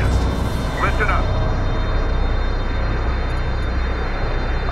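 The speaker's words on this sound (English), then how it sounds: "Missiles away. Saturate the area." Missile launches in the real-time strategy game Homeworld: Deserts of Kharak, heard as a steady, loud rushing roar with a brief whooshing burst near the start, over continuous engine-like rumble.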